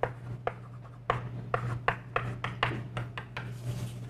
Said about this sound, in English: So I'm going to write down over here,